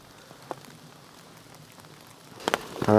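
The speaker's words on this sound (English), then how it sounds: "we've been waiting for the rain to die down" Rain falls steadily in a dense forest, a soft continuous patter close by, broken by a few sharper drops and knocks near the end.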